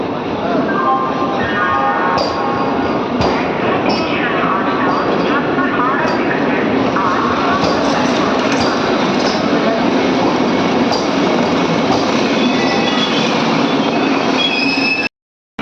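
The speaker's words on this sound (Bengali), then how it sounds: "আমাদের বন্দে ভারত ট্রেন এটা।" A Vande Bharat train at a station platform, a steady loud rumble of rolling stock with squealing, whistling tones from wheels and brakes layered over it, continuous throughout and cutting off abruptly at the end.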